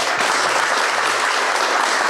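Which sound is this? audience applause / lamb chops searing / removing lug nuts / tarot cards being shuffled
audience applause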